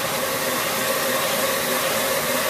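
A new bench grinder motor runs at a set 500 RPM, giving a steady, loud, even whirring hiss with no breaks and no talking.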